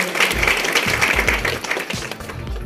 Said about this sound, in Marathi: त्याबद्दल सुद्धा सर्वांनी टाळ्या वाजवायचे।